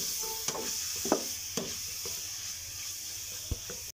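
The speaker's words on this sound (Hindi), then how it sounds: "अब हम लोग अच्छे तरीके से मिक्स कर लेंगे, हिला लेंगे।" Minced meat keema frying in a pan for qeema naan, with a steady broad sizzle throughout and a few distinct scrapes and knocks of a spoon stirring it, close, no voices.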